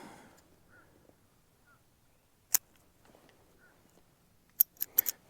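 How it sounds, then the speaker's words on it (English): Scissors cutting off an end during truck camping, a few crisp snips: one alone, then a quick cluster of three or four near the end, close and quiet. "You ain't gonna do anything if you don't cut that damn end, Charles."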